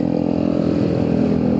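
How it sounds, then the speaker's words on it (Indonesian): Motorcycle engine running loud and close while riding toward an airport, a steady rough mid-pitched drone with no talk over it. "Ini motor berisik banget sejujurnya."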